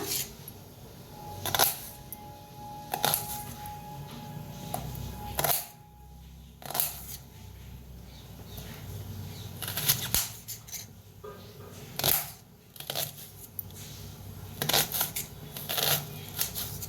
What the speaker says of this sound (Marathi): आता घेऊया कांदा कापून